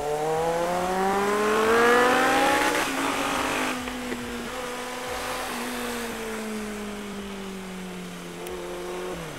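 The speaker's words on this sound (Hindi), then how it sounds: "इंजॉय करो भाई इसी 900 की आवाज का।" Kawasaki Z900 motorcycle engine with a loud exhaust, revving hard as it rises in pitch, dips, then holds a steady high drone while riding, with wind noise and no talking.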